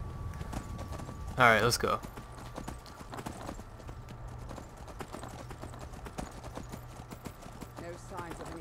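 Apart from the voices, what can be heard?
horse galloping hooves in video game Skyrim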